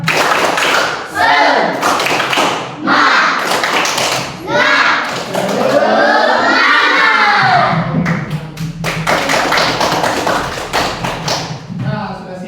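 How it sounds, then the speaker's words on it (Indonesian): A classroom of children performs a rhythmic spirit clap, bursts of loud hand claps and thumps in repeated patterns, broken by chanting voices and a teacher talking between the rounds. "Oke, tepuk semangat."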